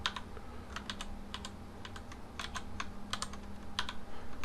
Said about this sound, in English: So I'm just pressing shift and numpad buttons to do alignment